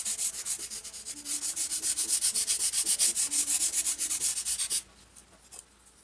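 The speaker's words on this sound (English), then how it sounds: "we're also going to sand this to a round shape" A wooden part for a Sunbird V2 powered glider is sanded toward a round shape. Close, rhythmic back-and-forth rasping strokes repeat quickly for nearly five seconds, then stop, leaving quiet handling noise.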